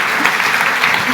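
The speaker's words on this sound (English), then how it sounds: "huge round of applause for these two" Conference audience applauding a pair of presenters, a dense, steady wash of many hands clapping close by that fills the whole moment without a break.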